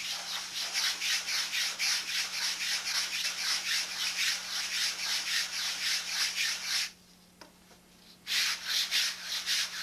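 Sandpaper rubs over the balsa wing ribs of a '87 Nobler control-line model airplane in steady back-and-forth strokes, close and continuous, pausing briefly near the end before resuming.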